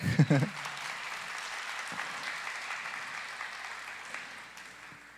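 A congregation claps after a hymn at a Marian service, a faint steady patter of applause following a brief burst of voice at the start.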